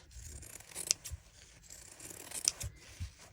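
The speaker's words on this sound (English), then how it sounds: "I'm just going to trim the edges" Scissors trim the edges of an embroidery piece, giving quiet close snips and rustling of fabric, with two crisp cuts standing out.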